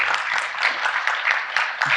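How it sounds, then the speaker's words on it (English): An audience at a Future Healthcare Asia 2025 panel discussion applauds the expert panel, a dense, even round of clapping that holds steady for the full stretch. "I would like to have a round of applause for all our expert panel"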